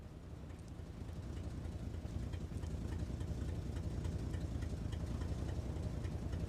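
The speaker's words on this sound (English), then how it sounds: "Why is the engine running?" An engine idles in the video game Kona II: Brume, a low, steady mechanical rumble that holds constant and slightly builds, with no voices over it.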